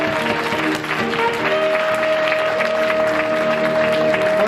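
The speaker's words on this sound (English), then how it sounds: "Please give them a warm round of applause." Audience applause at a recognition event, a steady dense wash of clapping sustained and fairly loud throughout, with a faint continuous tone running beneath it.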